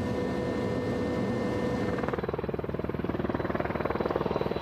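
A rescue helicopter throbs steadily, its rotor chop turning into a loud, fast rhythmic beating partway through as it comes in close.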